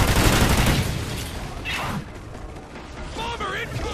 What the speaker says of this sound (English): Cover me, I'm reloading.